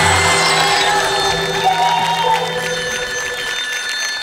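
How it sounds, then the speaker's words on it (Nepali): On a comedy club stage, a phone ringtone rings out loudly and continuously over a background of audience noise and cheering. "पक्नु है, फोन आयो."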